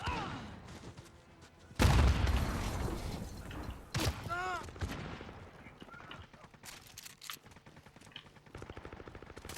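Shotgun blasts ring out in Call of Duty Modern Warfare 2019, two loud booming shots a couple of seconds apart, surrounded by clattering weapon handling and other game sounds.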